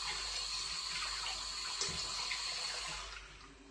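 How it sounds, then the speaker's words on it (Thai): Papaya gets a brief rinse under a running tap, a steady close splash of water that tapers off near the end, with no voices. "เดี๋ยวล้างบักฮุ่งเล็กน้อยก่อน"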